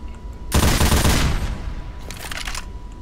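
An M60 machine gun firing in the video game Left 4 Dead 2. A loud, dense burst of rapid fire comes close up, followed by a quieter second spatter of shots.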